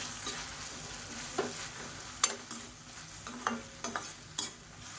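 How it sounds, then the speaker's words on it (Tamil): A tomato and grated coconut chutney mixture is stirred in a pan with soft, repeated scraping strokes and a few sharper spoon clicks over a faint sizzle, close and quiet with no voices. "நல்லா ஒரு பரட்டி விட்டுட்டு ஆறட்டும்"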